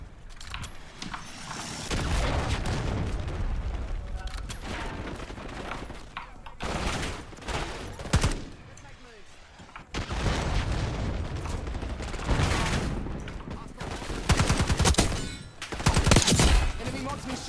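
Gunfire in Call of Duty: Black Ops 6 during a Hardpoint match: repeated bursts of automatic shots and weapon handling across the whole stretch, loud and close, with short pauses between volleys and some in-game voice chatter.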